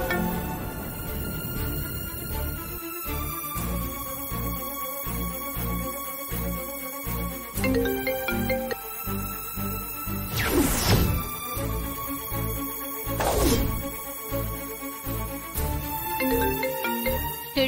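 A phone rings on an unanswered call, a melodic ringtone repeating steadily and loudly throughout, with no one speaking.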